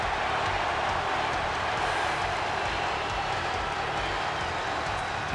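A crowd ovation in the wrestling video game WWE 2K26 as Team Extreme and Jeff Hardy enter on RAW: a dense, continuous roar of cheering and clapping at a steady level throughout.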